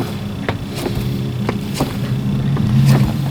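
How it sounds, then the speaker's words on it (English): A car wheel spun by hand in a garage during differential work, giving a soft repeating rhythm of light ticks and whirring roughly every third of a second, close up, steady and fairly quiet, with no talking. "So I'm gonna spin this wheel, and the other wheel doesn't spin."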